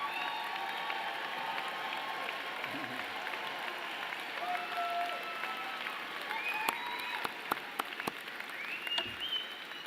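Commencement ceremony audience applauds the graduates' partners, families and friends, a sustained wash of clapping from a large crowd with scattered cheers and faint voices mixed in, moderately distant and even throughout.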